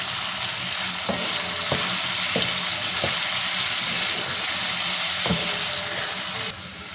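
Masala for chicken tikka karahi fries in a pan with a strong, constant sizzle, broken by several sharp knocks of a stirring spoon against the pan, close and loud, then easing off at the end.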